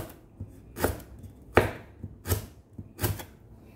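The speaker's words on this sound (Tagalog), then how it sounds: "At yung ating lemongrass, hiwain lang din natin siya ng maninipis." A knife slices lemongrass thinly on a board for a vegetable salad, four or five sharp chopping knocks spaced about a second apart, close and clear with no voices.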